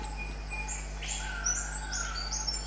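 Albert's lyrebird chicks call in rainforest with short, high chirps and a few thin whistled notes. The calls come at moderate volume over a steady low background hum.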